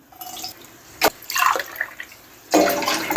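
Water poured into a pan to make syrup for semolina halwa, in brief splashy bursts: a short spill, a longer pour, then a steady stream toward the end, close by with no talking.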